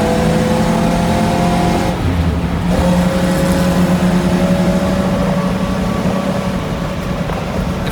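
A race car roars at high revs on a track, a loud sustained engine drone with a brief dip as it shifts, then climbing again.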